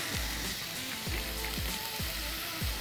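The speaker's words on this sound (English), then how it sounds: "I'm gonna give it a slight drizzle in the pan. You will have the slight sizzle." Olive oil sizzles in a frying pan, a steady close hiss and crackle with a faint repeating low thump underneath, no talking.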